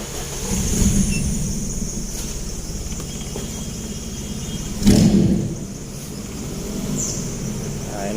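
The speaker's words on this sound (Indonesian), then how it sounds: "Ini mesinnya udah nyala." A car engine with its ignition coil polarity reversed cranks with a short loud burst, then settles into a steady low idle that runs on continuously.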